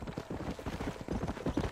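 Horse hooves clip-clop at a steady trot in the Western video game Red Dead Redemption, a close, continuous run of rhythmic thuds lasting under two seconds.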